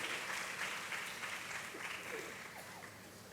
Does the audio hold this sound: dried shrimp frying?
no